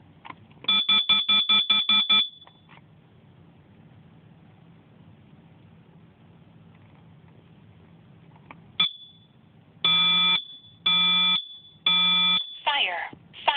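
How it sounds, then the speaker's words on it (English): A Kidde Nighthawk combination smoke and carbon monoxide alarm sounding indoors, with a rapid burst of loud piercing beeps, then a low electronic hum, then further separated long beeps and a short chirp, close and clear. "It's a smoke and carbon monoxide alarm."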